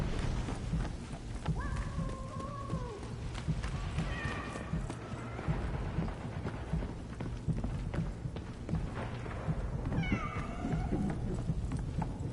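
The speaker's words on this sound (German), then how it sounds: "Deine Katze ist irgendwo da vorn, Coop. Sie hat Angst, aber sie lebt noch." Cat meows from a frightened cat in the video game 11-11 Memories Retold, a few short rising cries at mid-distance over steady rain-like noise and hoof clip-clop.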